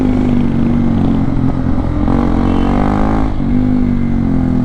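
A superbike roars loudly through an open exhaust with the dB killer removed, the engine note rising and falling close by with no talk.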